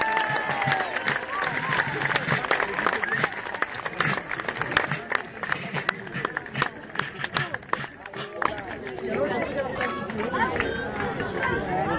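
Outdoor crowd applauding the Imperial Guard foot grenadiers' band of Ajaccio at a Napoleonic battle reenactment, steady dense clapping throughout with crowd chatter mixed in.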